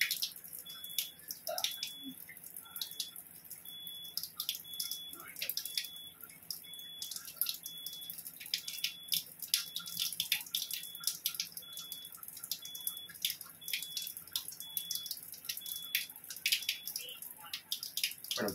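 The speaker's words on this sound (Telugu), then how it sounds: "క్లీన్ వాటర్ వస్తుంది చెప్పేస్తా, లైట్ బ్లింక్ అవుట్ ఆగిపోతుంది" Water runs from a Kangen water ionizer in a faint, steady stream, with a soft electronic beep repeating at regular intervals over it.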